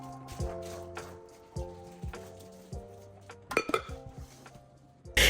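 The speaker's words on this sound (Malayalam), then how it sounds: "ബാക്കിയുള്ള ഐറ്റംസും ഞാൻ ഡിഷ് വാഷറിലോട്ട് വെക്കാറാണ്." Dishes, pots and cutlery clinking and clattering as they are stacked into a dishwasher, a run of close, ringing knocks and chimes with a louder clatter near the end.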